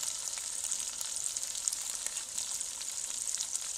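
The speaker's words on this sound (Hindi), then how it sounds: "ये देखिए अल्हम्दुलिल्लाह चिकन हमारा अच्छे से फ्राई हो गया" Steady, bright sizzling and crackling of chicken frying in hot oil, continuous and close with small pops, no voices.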